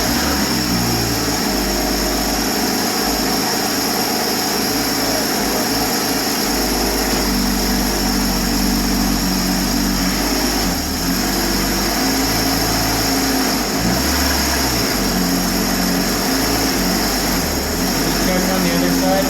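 A flood-damaged Porsche 981 engine runs continuously up close, a loud, steady drone with slight dips and changes in load as the transmission is shifted through the gears.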